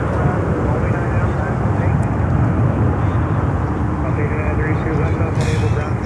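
A heavy cargo airplane landing on runway 9 at Miami airport, a loud continuous broadband engine roar and rush heard steadily from start to finish with wind noise, no distinct breaks.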